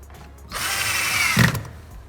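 A power drill drives a screw while a car rear camera is being installed: one brief whirring burst lasting about a second, rising slightly as it seats, in an otherwise quiet space.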